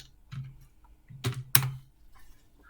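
Typing on a computer keyboard at a command prompt: a few soft keystrokes, then two sharp, close clicks in quick succession, with faint taps trailing off in a quiet room.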